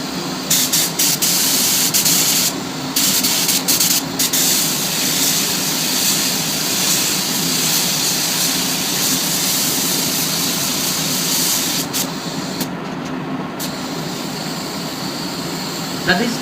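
A spray gun paints a car at about 2 bar inlet pressure from roughly 25 centimetres, a loud, steady airy hiss that runs continuously with only brief dips.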